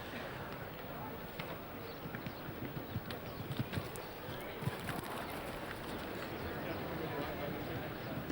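Show jumping horse at the European Jumping Championships in San Patrignano, Italy, its hooves thudding in a rapid galloping rhythm, fairly faint amid arena ambience and birdsong, with commentary over it.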